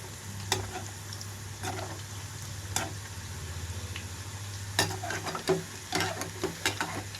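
Fenugreek leaf pakodi fry in oil while being stirred, a low steady sizzle broken by scattered clicks and scrapes that grow busier toward the end.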